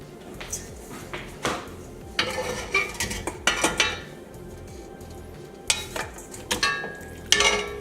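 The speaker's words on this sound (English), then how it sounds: "Last step is we're going to add the noodles to the meat sauce." Egg noodles being mixed into a ribeye steak stroganoff sauce with mushrooms in a pan, with repeated clinks and scrapes of a utensil against the pan and soft stirring between them, close and fairly loud, no talking.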